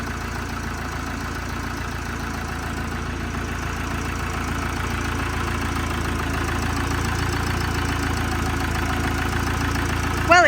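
A camper van engine idles roughly with uncalibrated injectors, giving a steady, shaky low drone with a knocking texture that grows slightly louder toward the end, heard up close without speech.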